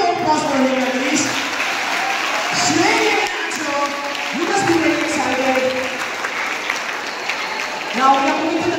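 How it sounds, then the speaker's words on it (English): An audience at a Class VIII school quiz applauds steadily for a correct answer, the clapping continuous through the clip while voices talk over it. "Give a huge round of applause for him, please."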